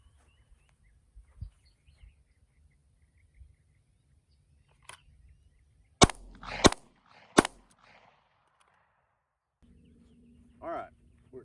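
Handgun shots fired from retention during a police qualification drill, two to the body and one to the head: three sharp, loud reports in quick succession amid quiet surroundings, with faint outdoor sounds before and after.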